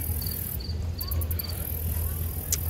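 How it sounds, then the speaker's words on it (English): Crickets chirp in short, repeated bursts over a soft outdoor background at a lakeside park garden, fairly faint and with no talking. "you can hear some crickets as well"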